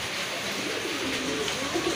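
Pigeons coo in a low, continuous murmur, close by and steady for a couple of seconds with no speech.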